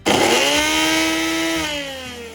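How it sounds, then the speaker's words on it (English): A blender grinds black sesame seeds into powder with a loud, close, high-pitched motor whine that runs steadily and then drops slightly in pitch as it slows near the end. "you may need to add some water or your plant-based milk, a little bit of it into your blender and blend it"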